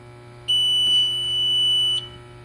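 A fire alarm control panel sounds its trouble buzzer after a detector loop is pulled out: one loud, steady electronic tone that starts abruptly, holds for about a second and a half, then cuts off, with no talking.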